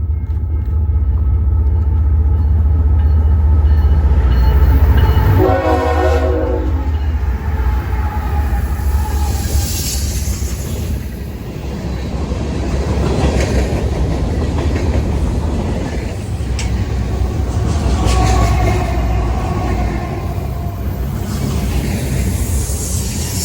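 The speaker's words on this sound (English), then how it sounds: "Next is a southbound manifest with 2 GEVOs in the lead." A southbound freight manifest led by two GE Evolution locomotives rumbles past at close range, a loud, sustained roar with rolling wheel clatter that holds steady for over twenty seconds.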